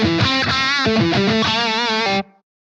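High-gain electric guitar through a Blackstar Amped 2 pedal amp on its 6L6 voicing with a 4x12 cabinet and boost engaged, playing a loud distorted riff of chords and sustained notes before cutting off abruptly.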